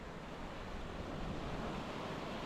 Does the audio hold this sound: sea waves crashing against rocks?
yes